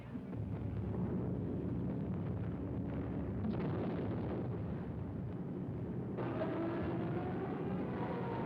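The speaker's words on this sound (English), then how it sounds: "Unopposed bombing raids sent defenseless civilians fleeing in stark terror." Explosions from bombing raids in a 1943 wartime documentary film, a dense continuous rumbling roar of blasts with a few sharper bursts, muffled and band-limited like an old soundtrack.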